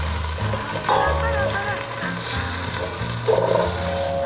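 Ginger and garlic sizzle steadily in hot oil in a frying pot, a close, continuous crackling hiss broken by a few scrapes and stirs, with no one speaking.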